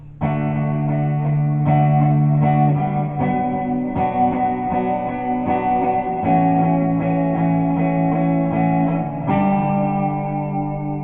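An electric guitar strums a steady chord progression, each chord ringing with distortion and chorus-like effects, no voices.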